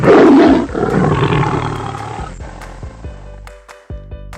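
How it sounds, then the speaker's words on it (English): A lion lets out one powerful, close roar that booms at first and trails off into low grunting rumbles, followed by a few faint clicks. No other sounds are heard. "This is lion."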